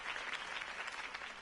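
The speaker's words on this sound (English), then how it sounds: "If only Mr. Wayne, my campaign's largest backer, could have heard that applause" A crowd applauds in a Telltale Batman video game, a dense, even patter of clapping that holds steady for a moment.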